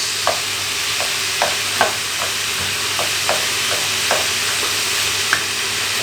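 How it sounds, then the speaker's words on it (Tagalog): Garlic and onion sauté in a pot as the base for spareribs sinigang, a constant bright sizzle broken by regular spatula scrapes and taps against the pot, close and fairly loud with no talking. "Dito na muna tayo magigisa"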